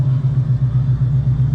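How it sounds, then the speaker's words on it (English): 2012 Chrysler 200 idling close by with a steady low rumbling hum and a faint thin whistle riding above it, no voices. "if you could hear that slight little whistle and idle in the background"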